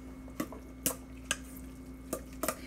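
A spoon scrapes and taps in a bowl while tomato sauce and chopped tomatoes are mixed, five or six distinct knocks spaced irregularly over a faint steady hum, with no talking.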